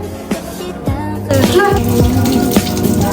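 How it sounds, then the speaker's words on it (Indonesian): Hands being washed with soap under a running tap: continuous water flow into a sink, loud and close, with splashes and shifting pitch as the hands move through the stream. "Langkah awal sebelum memulai praktikum adalah mencuci tangan menggunakan sabun dan air mengalir."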